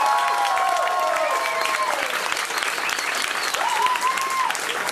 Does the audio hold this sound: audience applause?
yes